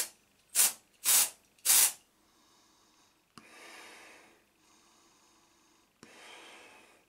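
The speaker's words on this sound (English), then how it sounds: "now let's try some brute deodorant" Three short, sharp hissing sprays from a Brut deodorant aerosol can burst out in quick succession, followed by quieter breathing sounds through a mask.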